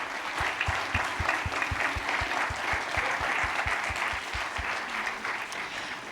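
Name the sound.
audience applause for the board members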